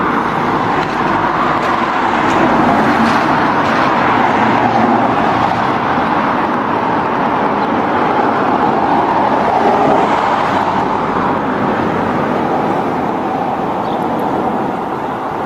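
Steady roar of cars and other vehicles passing on a busy UK road, continuous broadband rumble with slight wind buffeting and no pauses throughout.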